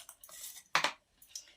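Boiled chickpeas go into a bowl for a spiced chickpea salad, giving a few quick, quiet clinks and rattles against the dish in three short bursts.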